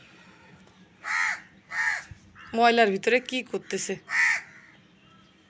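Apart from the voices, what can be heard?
crow cawing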